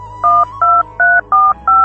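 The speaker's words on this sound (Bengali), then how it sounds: "দেখি রমজানকে একটা ফোন করি।" A phone dials a call, giving five evenly spaced two-tone keypad beeps over a steady low hum, loud and close with no talking.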